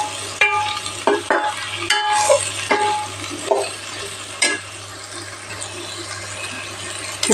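Vegetables sauté in oil in a pan, with bell pepper to come later, for a vegetarian chana gravy: steady close sizzling under repeated scraping stirs of a utensil against the pan, with no talking.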